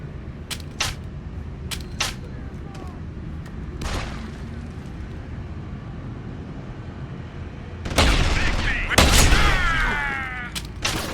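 Gunfire in the video game Deus Ex: Human Revolution, with scattered sharp shots early on and a louder burst of rapid firing near the end, mixed with game noise and a voice speaking.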